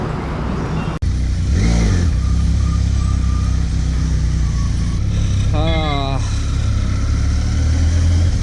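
A Benelli TRK 502X motorcycle engine idles with a low rumble, then revs up in a couple of rising bursts, while a person talks over it.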